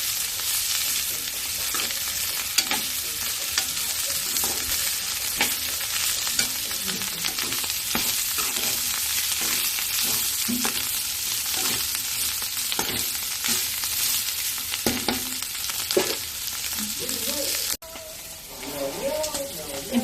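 Turmeric gets stirred into sliced bitter gourd frying in a pan, making a constant crackling sizzle with repeated spoon scrapes and clicks, then a brief louder clatter near the end.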